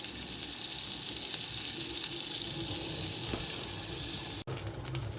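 Oats pancake batter fries in melted butter in a pan, a steady close crackling sizzle with faint stirring clinks and one sharp knock near the end.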